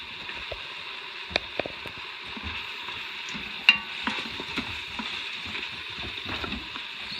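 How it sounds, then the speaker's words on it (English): Onions sauté gently in a pan with a soft, steady sizzle, broken by a few sharp clicks and light knocks of a utensil, one louder tap near the middle. "So we're just gonna let this saute just a little bit."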